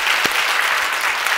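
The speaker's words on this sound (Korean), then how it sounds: "우리 찬양팀 수고했는데 우리 박수 한번 쳐드립시다" A church congregation applauding steadily at a Christmas service, dense clapping filling the whole short stretch.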